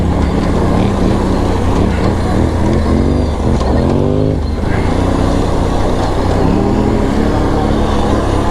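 A Polaris quad engine roars steadily and loudly as the rider takes off on a rocky Arizona mountain trail. The pitch climbs and dips with acceleration and shifting, close to the listener.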